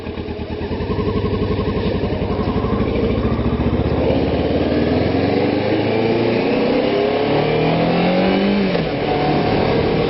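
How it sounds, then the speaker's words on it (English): A motorcycle engine idles roughly, then revs up with rising pitch as it pulls away and accelerates, loud and close throughout. "So this bike's going to sound different than the CBR."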